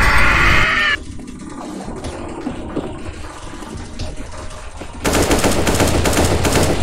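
Rapid automatic gunfire rattles loud and dense in a CS:GO zombie escape mod match, dropping to quieter scattered shots before another sustained burst.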